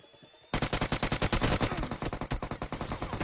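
Rapid automatic gunfire in PUBG Mobile opens after a short quiet moment, a dense burst of loud cracking shots that runs to the end with no talk.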